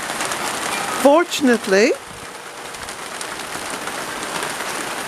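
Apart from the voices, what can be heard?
heavy rain falling outside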